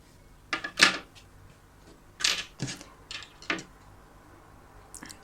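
Scissors snip through knitting yarn in a few short, crisp cuts spread across a quiet moment, close up and fairly soft, with small handling clicks between them.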